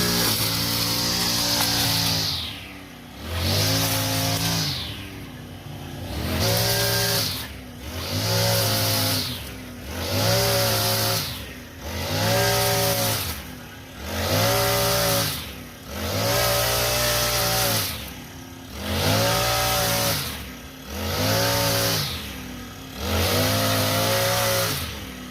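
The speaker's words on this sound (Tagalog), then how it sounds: "nagtiwas kog mower, nag-grass cutter" A gas-powered string trimmer cuts thick grass, its engine surging and easing in a steady repeating cycle of loud revs, close and continuous throughout.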